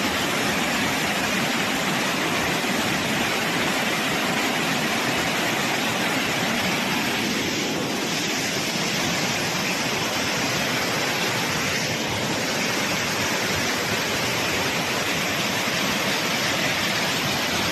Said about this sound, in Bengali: দেখুন কত স্রোত।